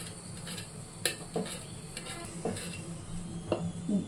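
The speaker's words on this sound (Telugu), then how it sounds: "దీన్ని కూడా సన్నగా చాప్ చేసుకుంటాను" Knife finely chopping a green chilli on a board, a series of sparse, light, fairly close taps at uneven intervals over a low steady background hum, with no voices.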